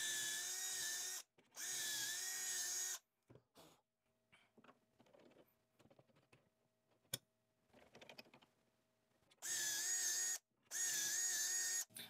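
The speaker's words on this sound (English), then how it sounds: "now I can pre-drill the holes at that certain distance" A power drill pre-drills dowel holes through a doweling jig in a workshop, with several loud steady whirring bursts separated by quiet handling and clicks.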